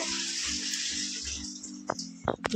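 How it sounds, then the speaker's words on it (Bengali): Water pouring steadily from a hand pump into a vessel, a continuous close hiss that gives way to a few louder splashes and knocks near the end. "জলটা তুলে দাও"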